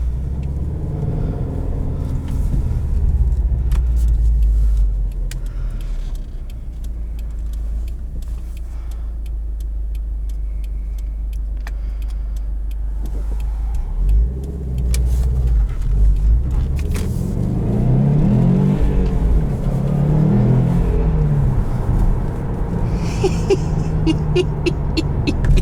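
A 2019 Subaru WRX STI driving on the road, a steady low engine drone from inside the car with faint ticking, then revs rising and falling through gear changes as it accelerates.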